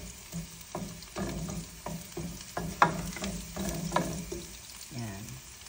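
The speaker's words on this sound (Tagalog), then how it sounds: "Kailangan pa-brownin muna natin yung bawang." Garlic browns in a frying pan while being cooked for laing, a soft sizzle running under intermittent stirring scrapes and clinks, with a few short voiced sounds mixed in.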